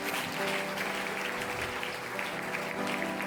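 Church congregation applauding to acclaim the Lord, a steady, dense wash of many hands clapping, continuous and moderately loud from start to finish with no break.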